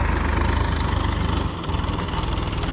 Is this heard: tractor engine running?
yes